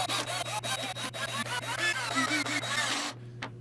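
Rapid rhythmic mechanical whirring and grinding, like a power driver driving mounting screws into a wooden end table, runs loud and steady for three seconds, then stops with a faint click.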